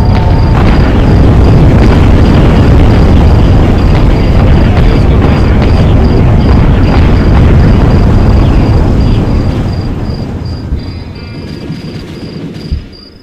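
Kringle bomb explosions in the video game Atom Zombie Smasher form a loud, dense, continuous roar of blasts and rumble that holds for about ten seconds and then fades. No one speaks.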